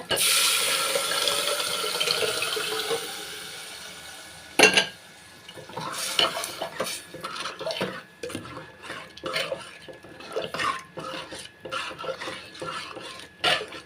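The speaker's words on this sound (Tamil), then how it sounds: "அதில் கொஞ்சமாக சுடுதண்ணி மட்டும் ஆட் பண்ணிக்கிட்டேங்க" A steady rush of hot water poured into mashed green gram lentils, then scraping and stirring in the pot with clinking utensils, close by and moderately loud.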